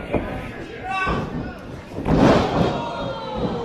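A wrestler is slammed hard onto the ring mat, a heavy thud over crowd noise, with commentators talking excitedly over the impact.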